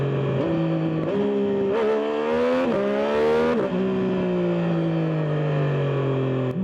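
A Triumph Street Triple 765 RS engine, up close and loud: idling, then several sharp throttle blips that rise and fall before it settles back to a steady idle.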